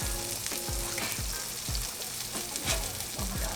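A burger patty sizzles loudly on the grill as it gets flipped, a dense continuous crackle punctuated by several soft thumps of the spatula.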